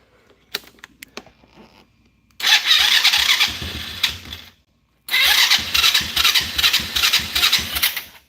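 A small engine, freshly given a cleaned carburetor and new gas, is cranked with a few clicks, then roars to life, cuts out briefly and restarts, running loud and close.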